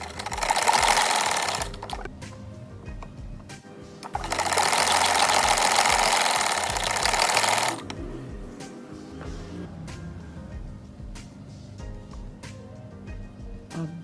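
Sewing machine stitching the shoulder seam of a kurta, two loud sustained bursts of rapid needle running separated by pauses, then quieter clicks and handling as the fabric is adjusted.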